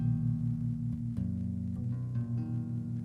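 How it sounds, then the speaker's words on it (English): A sustained strummed major chord on guitar with a bright, consonant ring, played alone and repeated steadily over a few seconds. "That's the sound of a pop chord"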